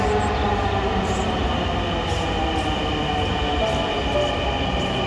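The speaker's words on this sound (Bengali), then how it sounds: "এই যে আমাদের ট্রেন চলে আসছে।" A metro train pulls into the station with a loud, steady rumble and whine of wheels and motors. It carries on unbroken throughout, with faint clicks on top and no clear speech.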